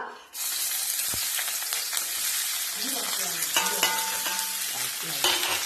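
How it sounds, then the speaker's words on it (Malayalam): Sliced onion and green chillies drop into hot coconut oil and burst into a loud, close sizzle right away, with stirring scrapes and clinks of a utensil against the pan over the crackle. "എണ്ണ ചൂടായതിനു ശേഷം അതിലേക്ക് അരിഞ്ഞു വെച്ച സവാളയും പച്ചമുളകും ഇടുക."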